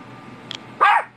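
A single dog bark, short and sharp, pops out near the end after a faint brief yip, loud and close over a quiet background.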